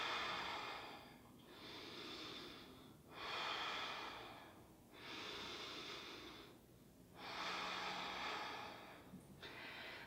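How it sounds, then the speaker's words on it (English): Slow, deep yoga breaths during a shoulder-strength practice, five or six long audible inhales and exhales in a steady rhythm, close and quiet with no talking. "Couple more breaths."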